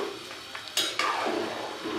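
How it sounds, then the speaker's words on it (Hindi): A spoon stirs soaking rice in boiling water in a pot while cooking chicken biryani, giving a few faint metallic scrapes and swishes over a soft bubbling simmer. "अब मैं चम्मच चला दूँगी।"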